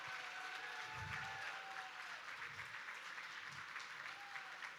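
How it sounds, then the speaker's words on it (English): A fundraiser crowd at a charity gala gives a sustained round of applause, a dense even roar of many hands lasting several seconds, with faint whoops and voices underneath. "Everyone, please say thank you and a round of applause to Rochelle Stefanski"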